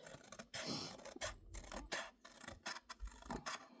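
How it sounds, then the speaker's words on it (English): Close, crisp snipping and rasping of small scissors cutting paper in short irregular strokes, with quiet pauses between cuts. "You guys love the sound of cutting paper."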